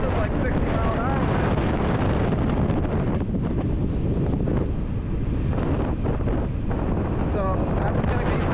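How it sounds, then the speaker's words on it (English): Fierce wind of around sixty miles an hour buffets the microphone during an outdoor ride near the coast, a dense, constant roar of rumbling gusts that barely lets up, with a voice speaking faintly underneath. "this wind is like 60 miles an hour"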